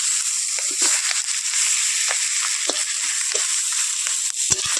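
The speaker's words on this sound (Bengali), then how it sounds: "ডিম ভাজা হচ্ছে" Eggs frying in a pan, a steady close sizzle with small pops and crackles scattered throughout and no voices.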